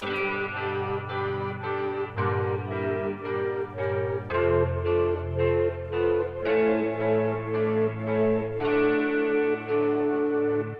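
A sequence of sustained electric guitar chords with heavy effects and echo, changing every second or so in a steady progression, loud and full with no voices.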